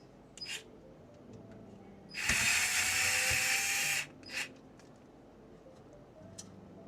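Screws being undone with a small electric driver on a clear-modded Xbox 360 Slim, opening the top of the drive: a steady two-second whir after faint clicks, followed by a short second burst, close and alone.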